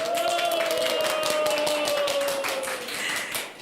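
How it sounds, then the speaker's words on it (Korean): Dense, steady applause and cheering from a small crowd of about ten at a citizens' singing contest, a continuous patter of hand claps with a sustained tone running underneath. "이 박수와 함성 소리 들리시나요?"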